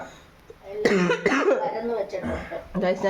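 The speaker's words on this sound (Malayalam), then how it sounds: "ചുമക്കുന്നത്" A person coughs several times in quick succession, close and loud, with throaty bursts and some breathing between them in a kitchen setting.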